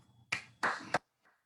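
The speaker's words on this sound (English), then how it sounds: "I hate having that single bit of applause" A brief scatter of hand claps over a video call, a few sharp claps in quick bursts followed by a faint trailing sound, with no talking.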